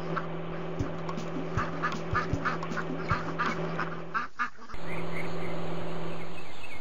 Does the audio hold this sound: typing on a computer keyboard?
no